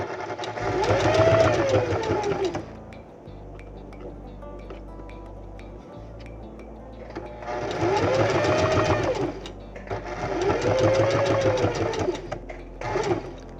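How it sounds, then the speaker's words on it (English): A sewing machine stitching a dart in bursts, with pins pulled out along the way; the needle's rapid whir comes up loud and close three times, with quieter gaps between runs. "we're going to sew, and as we sew, we are removing the pins because we don't want to sew over the pins"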